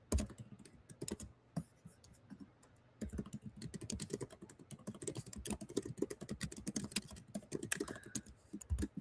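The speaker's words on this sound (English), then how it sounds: "I have to be quiet while I type this" Rapid, uneven tapping on a computer keyboard, close and steady for the whole stretch, with brief pauses and a few harder clacks, no voices over it.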